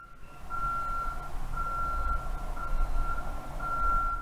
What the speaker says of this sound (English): Why do trucks have that sound? I get it, it's a warning, but like who's walking behind truck?